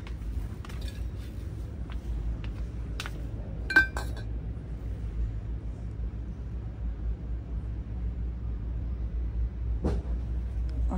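Glass homeware clinks while being handled in a store, a few light, sharp taps scattered over a quiet room background, with one brighter clink standing out and another near the end.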